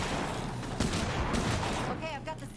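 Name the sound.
shotgun fire in the video game State of Decay 2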